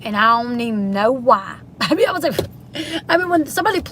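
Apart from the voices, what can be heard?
None of the usual background noises is heard.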